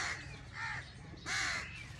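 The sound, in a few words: crows cawing near the poultry farm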